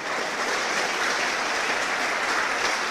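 A church congregation in Spanish-speaking worship applauds in a sustained, even wash of clapping that stays full and loud throughout, with no speech over it.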